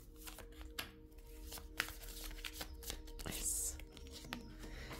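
Tarot-style cards are drawn and shuffled close up, with a string of crisp papery snaps and flicks and soft rustling between them, broken by a brief sharper scrape. There is no talk over it.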